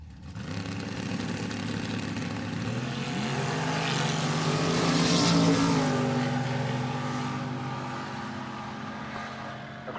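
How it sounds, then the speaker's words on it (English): A Gen 3 Firebird and a Mustang drag race side by side, their engines howling loud at full throttle, with pitch changes at each gear shift, the roar peaking mid-run and then fading slightly. "Across the finish line, the win lights in the quick performance lane for Gavin Lamb in the Mustang, 7:07 in a double breakout drag race"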